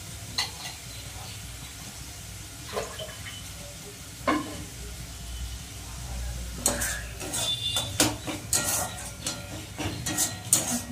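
A spoon scrapes and knocks around a cooking pan while chhana filling with spices is stirred, giving irregular clinks and soft sizzling that grow busier toward the end.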